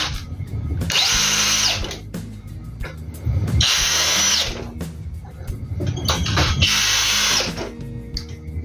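A Dewalt 12V brushless drill driver runs in three loud, sustained bursts of high whining motor noise, each lasting about a second and a half, separated by short pauses with clicks.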